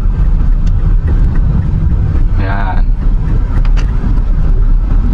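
A manual car pulling away uphill on gas at low speed with the clutch fully released, a loud continuous engine and road rumble with wind buffeting and someone talking over it.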